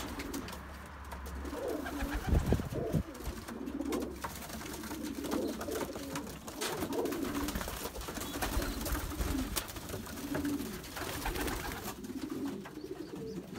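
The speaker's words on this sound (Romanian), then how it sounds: "Cam ăștia sunt porumbeii mei de reproducție." Breeding pigeons in a loft cooing repeatedly in low, throaty rolling calls, several birds overlapping at close range with faint background noise.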